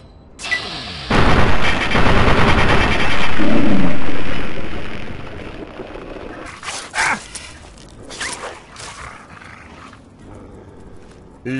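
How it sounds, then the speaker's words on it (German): Dog attacking a scorpion in the video game Fallout 3, a loud burst of snarling and combat noise that swells for a few seconds, then fades into scattered thuds and hits. "der Hund greift einen Skorpion an"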